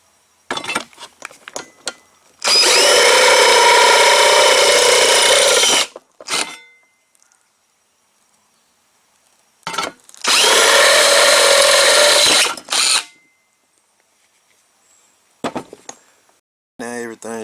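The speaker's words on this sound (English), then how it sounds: "I'm just using a step bit." Step bit drilling through a Chevy Silverado OBS shortbed truck tailgate: two loud, sustained power-drill bursts of a few seconds each, separated by clinks, handling noise and brief pauses.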